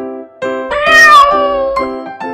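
A domestic cat gives one drawn-out, loud meow that rises and falls, close and clear with no other sounds around it.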